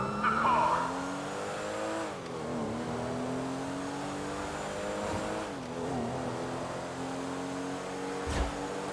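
A car skids in GTA V, its tires squealing in long drawn-out wails over a steady engine drone, with a brief thump near the end and no voices.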